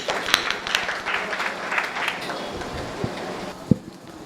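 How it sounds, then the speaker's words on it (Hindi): Audience applause at a public gathering, many hands clapping in a dense continuous patter that builds early then thins toward the end, with a few sharper individual claps standing out near the close. "आप लोग जोरदार तालियां बजा।"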